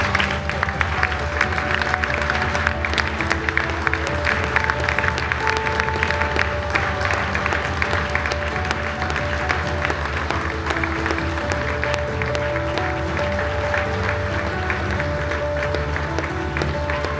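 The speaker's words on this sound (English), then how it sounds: "Have everybody stand and give these two courageous young ladies a huge round of applause." Steady, sustained applause from a crowd at a WIAA boys high school basketball game in a gym, Port Edwards at Pittsville. It holds at an even level for the whole stretch, with a faint musical tone running underneath.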